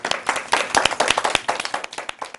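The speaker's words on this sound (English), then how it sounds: "Can you clap?" Children clap after a story reading at a board of education event, a quick burst of close, sharp handclaps with uneven rhythm that continues briskly throughout.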